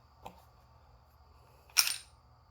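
A Taurus G2C pistol being cleared after jamming gives two sharp mechanical clicks and clacks, a small one early and a louder, brighter slide snap near the end, close by over a low hum.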